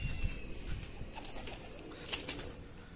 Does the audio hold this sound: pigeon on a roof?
yes